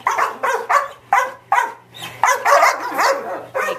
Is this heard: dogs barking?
yes